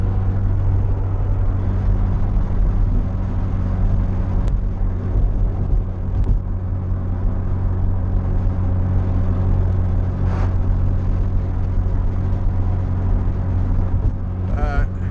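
A Mazda RX7 cruises steadily along a twisty road, its engine a constant low drone with a slight whir, close and unchanging for the whole stretch, with a few brief shifts near the end.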